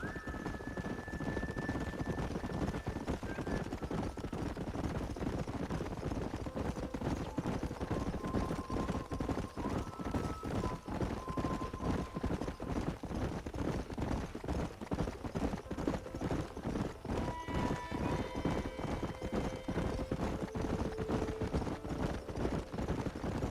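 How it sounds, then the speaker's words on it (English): Horses gallop across open country in the Western video game Red Dead Redemption, a dense rapid drumming of hooves held steady for the whole stretch, loud and close, with brief faint tonal cues of game music drifting over it. "There's the horses!"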